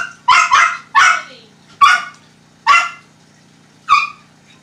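A dog barks sharply and close by, a quick double bark followed by several single barks spaced about a second apart, each loud and clear against a quiet room.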